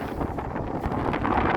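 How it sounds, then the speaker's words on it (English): Strong stormy wind roars and buffets continuously while riding a 2022 BMW R1250 RT motorcycle, a loud rushing noise with no pauses. "notice how windy it is."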